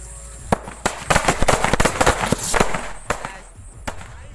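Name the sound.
firecrackers bursting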